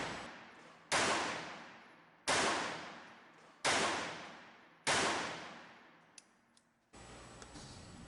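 A CZ-70 .32 auto pistol fired at targets 25 feet away, five sharp, loud shots spaced about a second apart, each with a decaying echo tail, followed by faint clicks and handling noise.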